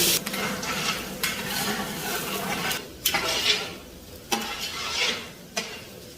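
Onions and black pepper fry and get stirred in a pot while making haleem, giving a steady close sizzle broken by several louder scraping stirs and clinks of a spoon against the pan.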